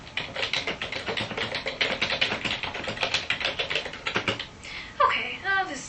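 Fast, uneven clatter of typing on a computer keyboard, keys tapping close and steady for several seconds before a few lighter clicks at the end.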